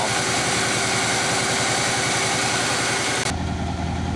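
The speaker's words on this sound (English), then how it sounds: "A little bit dead in one cylinder." Big-block V8 in a 1966 Chevy Biscayne idles with one dead cylinder, a loud, close, lumpy rumble with an uneven pulsing beat that keeps going, shifting in tone near the end.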